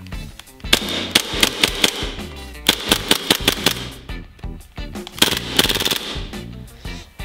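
A KWA MP9 airsoft gun firing bursts held right up to the microphone, sharp rapid clattering shots in three quick clusters separated by short pauses, loud and close.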